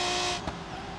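Race car engine running at steady high revs during practice laps, a continuous loud drone with a brief bump midway, no talking.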